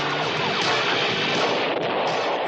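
A dense, roaring blast of noise from an overloaded laser cannon exploding in a cartoon fills the moment, loud and sustained, rumbling and crackling without a break.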